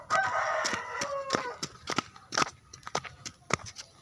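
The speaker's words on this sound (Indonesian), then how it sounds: "Ada ayam." A rooster crows outdoors in one long drawn-out call near the start, followed by scattered clicks, rustles and footsteps on a walk to school.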